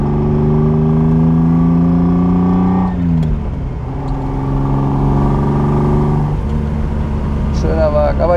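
A loud Ferrari 246 GTS Dino mid-engine V6 from 1974 revs up and holds a high, throaty pitch, drops back, then climbs again, close and continuous.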